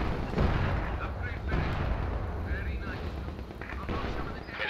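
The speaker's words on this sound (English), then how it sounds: "Batteries firing smoke shells on target." Artillery batteries fire smoke shells in the Company of Heroes 2 strategy game, a dense rolling rumble of booms and bursts that runs continuously under a voice.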